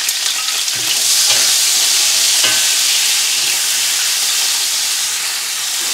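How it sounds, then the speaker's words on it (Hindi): Carrots frying lightly in hot oil for Afghani Kabuli pulao give off a steady, loud, close sizzle with broad hiss. A few soft stirring knocks cut through the sizzle early on. No one speaks. "गाजरों को भी हल्का सा फ्राई करना है।"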